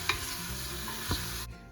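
Browned onions frying in a pan for tomato bisque give a brief, close sizzle with two light stirring knocks before cutting off abruptly.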